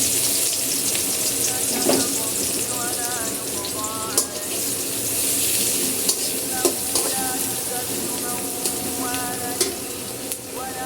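About four spoonfuls of onion fry in oil over lowered heat, a steady close sizzle broken by periodic scraping and knocking of a stirring spoon against the pan.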